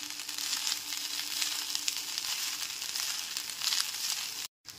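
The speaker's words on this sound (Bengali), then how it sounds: "লবণটা দিয়ে দেওয়ার পর হাই ফ্লেমে খুব ভালো করে ভাতের সাথে চিকেন আর ডিম ভাজাটাকে মিশিয়ে নিতে হবে।" Rice is stir-fried with chicken and fried egg over a high flame, giving a steady close crackling sizzle with faint stirring, then a brief drop to silence near the end.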